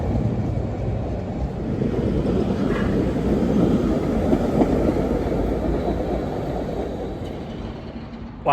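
Cleveland light rail cars roll past a station's high-level platforms, a loud, steady rumble of wheels on track with faint clatter, sustained throughout and ending with a sharp click.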